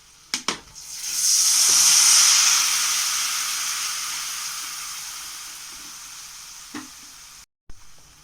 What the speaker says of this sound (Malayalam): അതിലേക്ക് ഞാൻ അല്പം വിനാഗിരി ഒഴിച്ചു കൊടുക്കുകയാണ്.